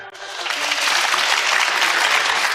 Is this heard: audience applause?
yes